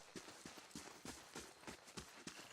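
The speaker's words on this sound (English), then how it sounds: "Horses." Horse hooves clip-clop in Pillars of Eternity, a fantasy role-playing video game, with a steady run of moderately soft hoof beats laid over a constant hiss of game ambience.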